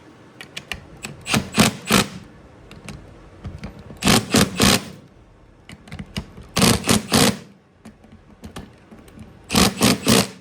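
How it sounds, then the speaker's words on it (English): An impact wrench drives brake caliper bolts down on a Nissan 300ZX Z32. It fires in four separate bursts of rapid hammering, each lasting about a second with quiet gaps between, loud and close. "So what I'm going to do now is impact these down."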